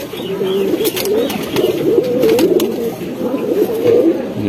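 Racing pigeons cooing in a loft, a continuous low warbling coo from several birds close by, with occasional clicks and rustles of wings and feet mixed in.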